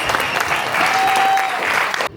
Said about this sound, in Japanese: 美しい手拍子、ステップを生で感じられてとっても良かったで